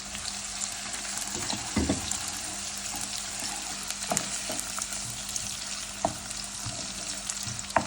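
Steady hissing sizzle of onion frying in hot desi ghee, continuous and close, with occasional clinks of a utensil against the pan.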